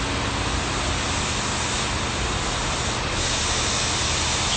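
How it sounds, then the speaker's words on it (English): Cleaner sprays in a steady, loud, close hiss onto the VTEC solenoid of a Honda S2000, the burst running unbroken the whole time with no voices. "Spray it again."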